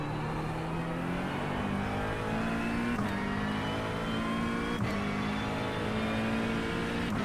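A GT3 race car engine in the iRacing video game at Bathurst holds a steady high drone with gear-shift dips, close and loud, with no talking.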